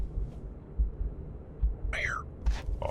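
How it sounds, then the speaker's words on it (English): Low, thudding heartbeat in the video game The Suicide of Rachel Foster, soft dull pulses repeating at an uneven pace beneath quiet ambience, with a few short breathy vocal sounds near the end. "I hear a heartbeat."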